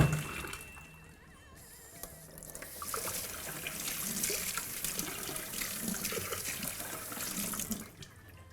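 Cold tap water runs into a sink over precooked mushrooms to rinse and cool them, a steady rushing stream that swells after a quieter start and cuts off near the end.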